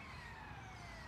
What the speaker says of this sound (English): So the siren.